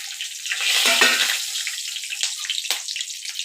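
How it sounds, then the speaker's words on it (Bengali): Nigella seeds, three cardamom pods and three cloves crackle and sizzle in hot oil, a loud rushing hiss that swells early, then a steady spitting fizz with a sharp pop near the end. "কালো জিরে ফোড়ন দিলাম তিনটে এলাচ তিনটে লবঙ্গ ফোড়ন দিলাম"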